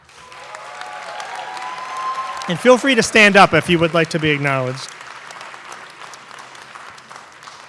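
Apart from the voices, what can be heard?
audience applause for first-generation college students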